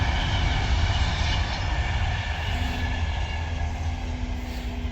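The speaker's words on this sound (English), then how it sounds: "Wait for the train to go by." A train rolls past close to a moored narrowboat, its steady low rumble and clatter filling the whole stretch loud and continuous, with no voices over it.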